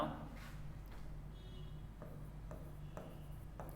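Marker or chalk writing on a board during a logic lesson, soft scratchy strokes in short bursts roughly every half second, faint and close, with low background hum.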